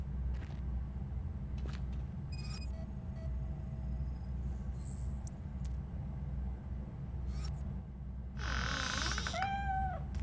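A cat meows in the video game RoboCop: Rogue City, a short pair of rising and falling mews near the end over a low rumbling ambient bed with scattered clicks and electronic blips.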